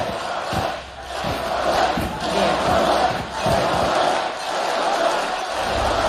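A large esports arena crowd roars and cheers through a VALORANT Champions Copenhagen grand final, loud and sustained with surging swells.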